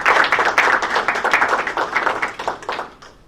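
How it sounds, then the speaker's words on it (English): An audience in a high school room claps for Anna at a fall community forum, a dense round of applause that is loud at first and tapers off toward the end. "Let's give Anna another nice round of applause."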